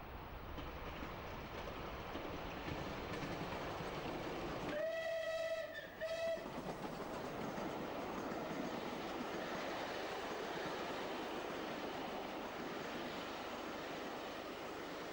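Steam locomotive Clan Line hurries south through Eastleigh Station on a sunny Sunday, a loud rushing roar of train and wheels with a two-part whistle blast sounding near the passing.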